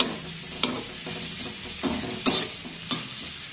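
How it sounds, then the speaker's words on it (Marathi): Sliced onion frying over medium heat in a pan for a spicy chicken curry, with a steady sizzle and a few sharp spoon scrapes as it gets stirred. "मध्यम आचेवर हा कांदा छान तांबूस रंगावर भाजून घेऊया"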